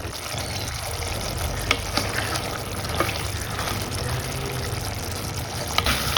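Bilimbi pickle bubbling and simmering in a pan on the stove, a steady close crackle and hiss with occasional small pops and no voices.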